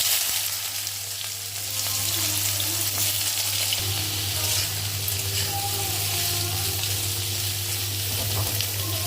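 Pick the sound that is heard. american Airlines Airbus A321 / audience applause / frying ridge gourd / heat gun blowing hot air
frying ridge gourd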